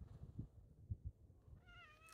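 A cat gives one short, clear meow near the end, after a stretch of low rumbling background noise and a few soft thumps.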